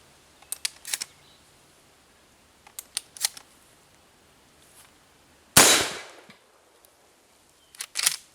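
A single sharp, loud gunshot from an Alpha Arms SPX rifle cracks out and rings off, surrounded by small metallic clicks and clacks of handling the action.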